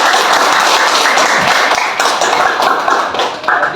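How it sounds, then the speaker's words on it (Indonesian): Classroom applause for a student rises at once, loud and dense, and keeps going for the whole stretch as a busy wash of close clapping hands with only slight dips in strength. "Tepuk tangan dulu buat Chandra."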